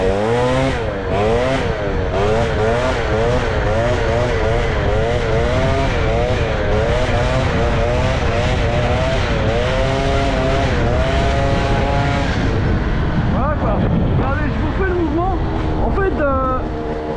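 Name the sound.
pit bike engine revving while accelerating for a wheelie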